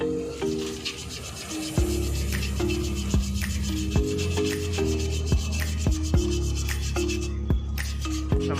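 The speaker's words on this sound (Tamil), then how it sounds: "அதுக்கு அந்த எம்ஆர் சீட் போட்டு ரஃப்பாக தேய்க்கிறது." An emery sheet roughening the brake rotor of a Volkswagen Polo during brake pad replacement, a loud close rasping rub repeated in steady back-and-forth strokes throughout, with no talk.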